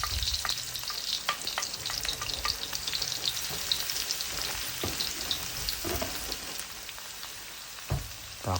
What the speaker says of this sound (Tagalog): maglagay muna tayo ng mantika. Igisa ang sibuyas. Sinod natin ang ating bawang.